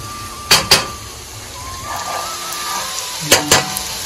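Chickpeas frying in a pan with butter, a continuous sizzle punctuated by two pairs of sharp metallic clinks as a utensil scrapes and stirs them, close and fairly loud.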